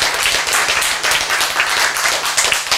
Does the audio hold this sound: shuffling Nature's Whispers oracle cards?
no